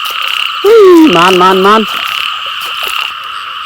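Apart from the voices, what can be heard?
frogs croaking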